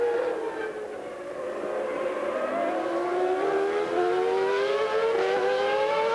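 A Formula One car at the 1997 Canadian Grand Prix passes on track, its high engine whine rising steadily in pitch as it approaches, loud and continuous with no talk.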